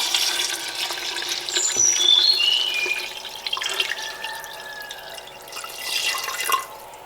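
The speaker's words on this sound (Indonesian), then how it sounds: "Kita tuang santan ya" Coconut milk poured into a simmering goat curry, a steady watery pouring sound with light drips and gurgles, close and fairly loud throughout.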